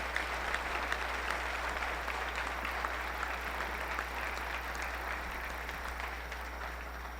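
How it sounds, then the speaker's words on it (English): A breakfast audience at a hall of fame event applauding honorees, steady clapping held at a moderate distance throughout, slowly tapering toward the end. "Let's applaud these folks."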